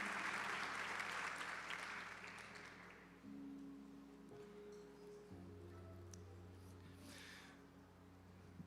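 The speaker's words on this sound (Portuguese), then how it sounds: "aplauda ao Senhor" Church congregation applauding in praise, standing together, a broad wash of clapping that starts full and fades gradually, leaving faint scattered claps over a low hum.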